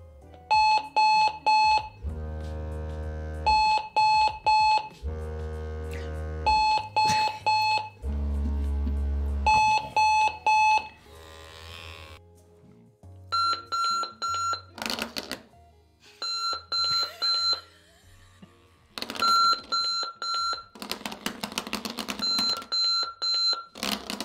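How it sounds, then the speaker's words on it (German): A Wake N Shake Dynamite alarm clock ringing in repeated loud electronic beep bursts, switching between several tone patterns and rhythms with short pauses between them, close and clear with no talk. "Und den Alarm setzen wir jetzt mal eben auf 15 Uhr und ein paar zerquetschte."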